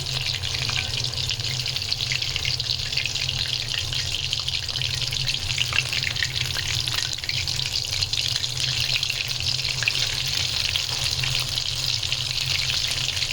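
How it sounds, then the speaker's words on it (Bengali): Chicken pieces being fried a second time in hot oil at home: a continuous, even crackling sizzle with a bright fizzing hiss, close and steady with no pauses or talk. "যেহেতু দুবার তেলে ভাজা হচ্ছে"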